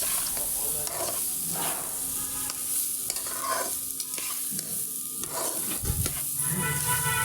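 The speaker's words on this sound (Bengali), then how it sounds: "চালটা ভালো করে একটু নেড়ে নিলাম।" Washed rice stirred in a hot pan with oil, bay leaves and whole cumin, giving a steady sizzling hiss broken by scraping strokes of the spatula and occasional louder knocks against the pan, with no voices.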